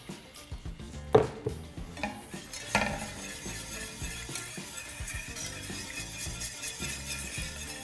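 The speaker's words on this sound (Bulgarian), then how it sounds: "Смених шпатулата с баркалка, за да мога да разбия хубаво всички малки бучки от брашното" A whisk stirs a flour-thickened sauce with a ladle of broth in a pot for a wine sauce with beef tongue, giving rapid metallic scraping and clinking that is loudest near the start and then steady and close.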